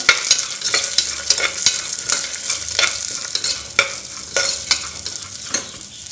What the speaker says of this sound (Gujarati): તુવેરના દાણાને આપણે થોડા તેલમાં સાંકળી લઈશું